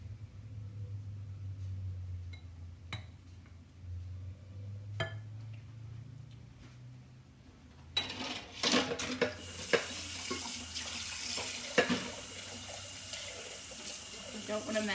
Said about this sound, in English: Don't want a mess to have to clean up after, so just rinsing this off.